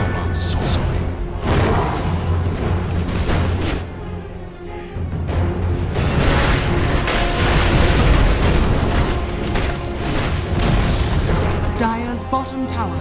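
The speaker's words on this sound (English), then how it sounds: "Bottom tower has fallen." A tower being destroyed in the Dota 2 video game, heard as booming explosive bursts and crumbling impacts over layered game effects and music, loud and sustained through most of the stretch.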